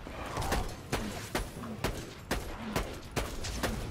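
Gunfire in the video game Borderlands 2: a string of sharp shots spaced about half a second apart, loud and close, with no talk over them.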